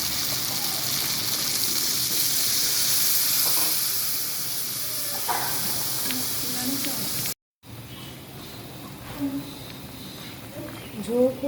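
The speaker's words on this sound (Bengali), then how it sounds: "এখন দিয়ে দিচ্ছি ঝোলের পরিমাণ পানি।" Water goes into a hot tomato-and-spice masala for a koi fish tomato curry, giving a loud, steady hiss for about seven seconds, then a short break and softer bubbling.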